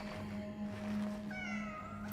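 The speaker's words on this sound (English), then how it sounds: "Cat." Inside Cronos: The New Dawn, a small cat gives one drawn-out meow late on, rising over a constant humming backdrop of game ambience, near and moderately loud.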